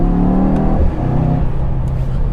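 A Mercedes E63S engine pulls hard under acceleration, a loud, close, steady roar with a slight pitch change midway through and no voices over it.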